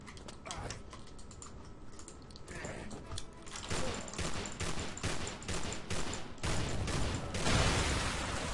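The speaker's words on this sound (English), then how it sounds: "so now I've got my machine gun." Rapid machine gun fire in the horror shooter The Haunted: Hells Reach, dense clattering bursts that grow louder and heavier toward the end, close and continuous.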